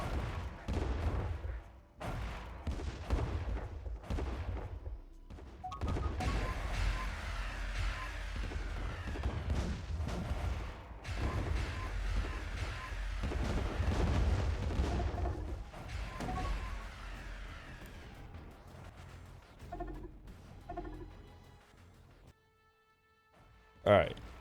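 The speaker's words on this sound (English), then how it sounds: "I guess this planet didn't need to be bombarded necessarily" Artillery-like barrages and muffled blasts from an attack fleet bombarding a planet in the space strategy game Distant Worlds 2, sounding as repeated bursts of gunfire and booms over a long stretch, with occasional talk underneath.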